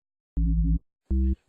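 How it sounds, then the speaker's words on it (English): Square-wave sub bass synth patch built in Ableton Operator, two sustained low held notes with a brief pause between them and a third note starting at the end, heard alone without talk. "For a sub bass, we're gonna use operator. It's gonna be either sine wave or square free."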